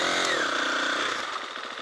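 A motorcycle engine idles in neutral close by, a loud, continuous buzzing drone whose tone wavers and dips slightly over a couple of seconds.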